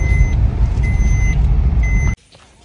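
Steady high-pitched reversing beeps repeat in even pulses from a car being parked near a beach, loud over a rumbling engine, then cut off abruptly as the vehicle stops.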